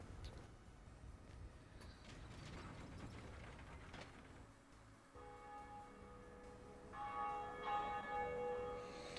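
A bell in Dark Souls rings out with clear sustained metallic tones late in the passage, following a stretch of grinding mechanical clatter, moderately loud with no talking.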